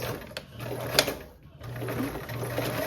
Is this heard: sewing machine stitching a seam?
yes